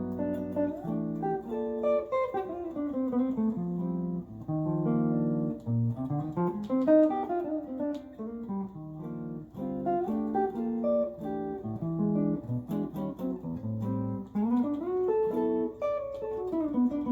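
A Nash Telecaster electric guitar plays a clean melodic passage with chords and single-note lines, steady and close, with no talking.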